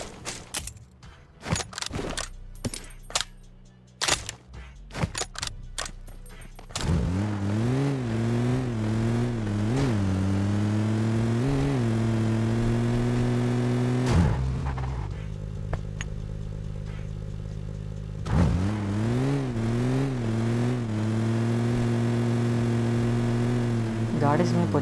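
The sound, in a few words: car engine driving in a video game (PUBG)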